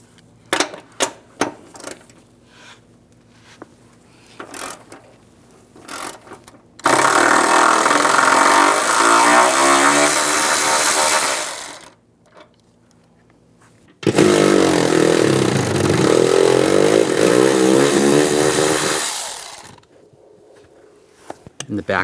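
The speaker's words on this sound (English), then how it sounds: "We're going to remove these nuts. Use an E14 socket." Power ratchet or impact tool spinning nuts off with an E14 socket on a 2007-2013 Chevy Silverado center console, two long loud whirring bursts separated by clicks and handling noises close up.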